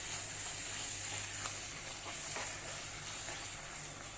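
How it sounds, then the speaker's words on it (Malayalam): Grated coconut being stirred into melted jaggery in a pan for green gram laddu: a steady, even sizzling hiss with faint scraping, continuous and unbroken, with no voices. "നല്ലതുപോലെ ഒന്ന് ഇളക്കി മിക്സ് ചെയ്യാം നമുക്ക്"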